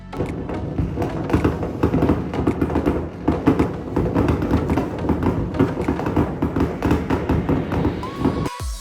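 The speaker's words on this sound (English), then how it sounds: "So at midnight, you can see fireworks as far as the eye can see." New Year's midnight fireworks in Iceland pop and thud in a dense, continuous crackle of overlapping bursts, loud and spread from near to far across the sky.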